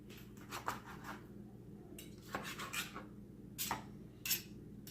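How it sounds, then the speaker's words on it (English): Several short scraping, rasping knife strokes cutting chicken into chunks on a chopping board in quick bursts, close and fairly quiet, with a low steady hum underneath. "Just get a chopping board and cut it up into nice little chunks."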